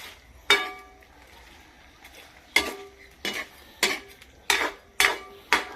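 A spoon stirs shrimp in a metal cooking pot, giving sharp clinks and scrapes: one at the start, then a quicker series of about six knocks in the second half, close and fairly clear in a quiet room.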